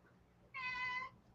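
One drawn-out cat meow, fairly faint and a little distant, over a low steady hum.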